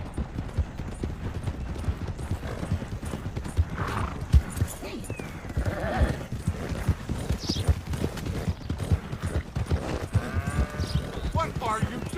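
Horse hooves clip-clop steadily through a Red Dead Redemption 2 game scene, with whinnies and neighs mixed in as people talk over the hoofbeats.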